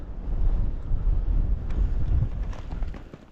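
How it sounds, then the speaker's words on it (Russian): Strong wind buffets the microphone on a frozen lake during ice fishing, a steady low rumbling roar with gusts throughout and faint ticking sounds near the end. "Ветер сильный."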